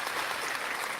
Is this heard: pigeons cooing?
no